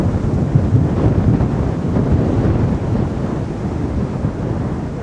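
Blizzard wind in a farming video game, heard while driving a pig feed truck: a steady, loud, low roar and rumble that never lets up, heard alone with no talking.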